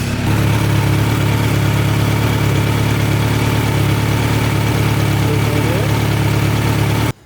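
A steady, unbroken idle from a 2017 Kawasaki Z900 motorcycle engine just after an oil change, running loud and close for about seven seconds before cutting off abruptly.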